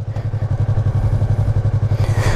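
A Yamaha MT-03 320cc motorcycle engine runs loud and close while riding, with a steady, fast pulsing throb and a rough mechanical clatter that swells toward the end.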